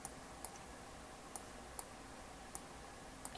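Computer mouse clicks while working in design software, six crisp, evenly spaced ticks about half a second apart, close and fairly quiet, no voice.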